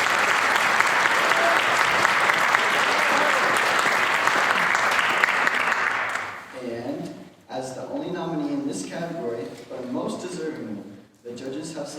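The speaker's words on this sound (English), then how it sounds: "Please join me in applauding Amira Thomas for being nominated in the arts category." Audience applause at a Kittitas County Youth Awards ceremony honoring an arts-category nominee, a dense sustained clapping for about six seconds that then cuts off as a speaker's voice takes over.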